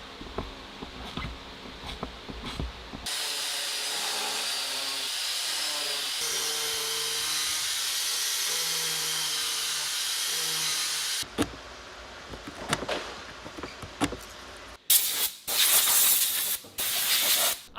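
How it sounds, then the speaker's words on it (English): A full-size cutoff wheel grinding through the stock lower intercooler duct of a Porsche 911 Turbo, a sustained loud whining hiss with shifting pitch that stops and restarts, followed by short bursts of cutting. "Obviously, I used a full-size cutoff wheel for that."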